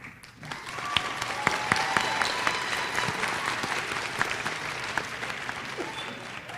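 An audience at a college's annual awards and recognition ceremony applauds steadily with dense, sustained clapping and a few louder claps throughout.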